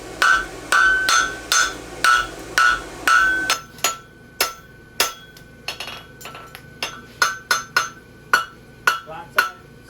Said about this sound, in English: Come in with the heel of my hammer where my clip's going to start.